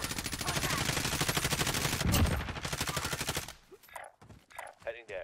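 Rapid automatic gunfire from Call of Duty Warzone rattles loud and continuous for several seconds, a heavier blast in the middle, then breaks into short separated bursts at the end.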